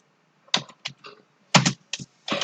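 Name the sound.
typing on a computer keyboard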